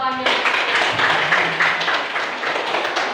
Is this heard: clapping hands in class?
yes